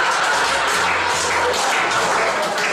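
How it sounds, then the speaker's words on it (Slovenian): A comedy audience in Slovenia applauds a comedian with a loud, continuous wash of clapping that stays at full strength and ends abruptly, with faint voices mixed in. "pa za konec dajmo še en aplavz za Pleskoviča"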